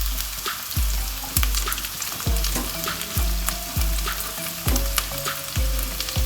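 Garlic, ginger and cinnamon sizzling in hot oil in a pan, a constant close crackle broken by regular knocks of a spoon stirring against the pan roughly every half second.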